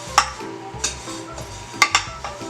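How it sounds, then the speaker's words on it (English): A metal spatula scrapes and taps in a pan while spreading a buttery graham cracker crust for eagle bars, giving several sharp scraping clicks at uneven intervals over a low background hum. "I'm actually going to use like a metal spatula to spread this around"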